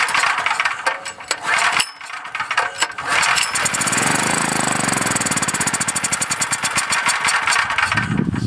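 A portable generator engine sputters and catches while running on sprayed carburetor cleaner, then settles into a loud, steady, rapid-firing drone after some uneven bursts at the start.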